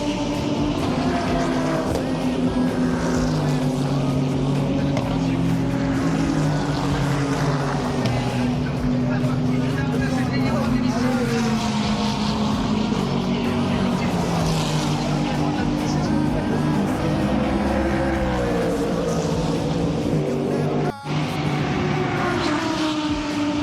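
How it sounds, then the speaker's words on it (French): GT World Challenge race cars roaring past a straight at full speed, a loud continuous wall of engine noise with rising and falling whines as cars pass close, voices faintly underneath. "On voit les bagnoles, elles passent à toute allure."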